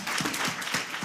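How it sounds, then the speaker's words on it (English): Audience applause for mentors at a foodtech demo day, a steady crowd clapping that fills the whole short moment at moderate, even loudness. "So again, round of applause for the mentors here with us today"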